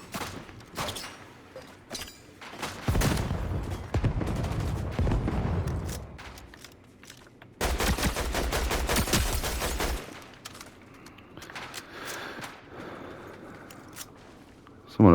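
Rapid bursts of automatic gunfire and scattered single shots in the video game Fortnite, loud and close, in several separate volleys with quieter gaps between them.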